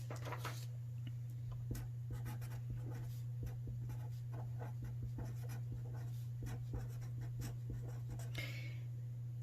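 Handwriting notes on paper, a series of quiet, close scratching strokes in irregular short bursts over a steady low background hum, with no speech.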